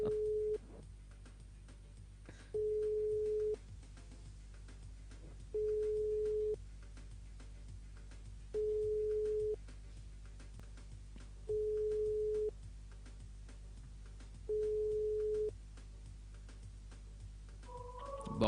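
A telephone busy tone after the caller hangs up, evenly spaced single beeps repeating about every three seconds over a faint background hum, clear and alone with no talk.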